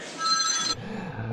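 A phone rings as a taxi calls, a bright electronic ring that sounds for under a second and then cuts off, leaving quiet low background noise.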